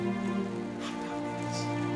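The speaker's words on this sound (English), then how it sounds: "It's been raining like this for 4 minutes now." Steady rain keeps falling without a break, a continuous even hiss of drops on a surface with a faint low hum running underneath and no voices.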